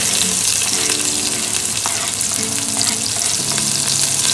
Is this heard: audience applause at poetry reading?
no